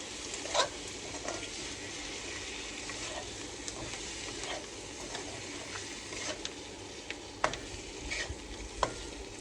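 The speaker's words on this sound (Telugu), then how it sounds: "చక్కగా ఒకసారి వాటన్నిటినీ మరొకసారి మంచిగా మిక్స్ చేసుకొని" Spicy egg roast with garam masala and coriander being stirred in a hot pan, a steady sizzle with scattered scraping taps of the spoon, close and fairly loud, no voices.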